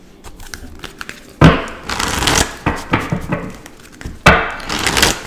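Oracle and tarot decks are shuffled together by hand, producing loud, close riffling bursts and soft flicking card slaps in uneven waves, with no talk.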